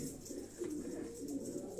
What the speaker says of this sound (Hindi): और ये छत वाले कबूतर